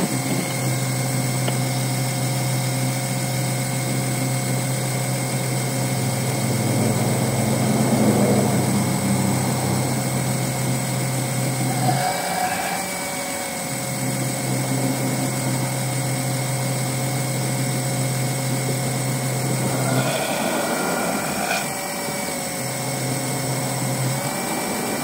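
A Snapper Ninja Hi Vac lawn mower engine runs steadily at close range, a loud continuous drone with a low hum that dips and surges a couple of times.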